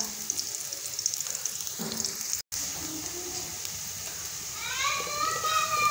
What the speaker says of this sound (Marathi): छानपैकी गोल्डन ब्राऊनवर भाजून घ्यायचा आहे आता आपल्याला कांदा